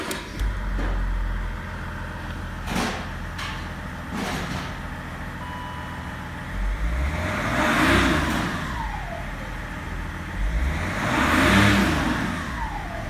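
A BMW E39 with a 3.0 turbodiesel engine idles with a steady rumble, then revs up smoothly twice, each rise swelling loud and falling back to idle.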